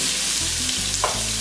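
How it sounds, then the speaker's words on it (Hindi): Cubed capsicum and onion frying together in a pan, giving a steady, close sizzle with a faint stirring scrape partway through and no voices. "तो फ्राई करेंगे हल्का सा"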